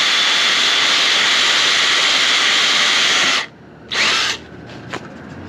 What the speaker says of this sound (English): we're going to drill the hole so we can run the wires in it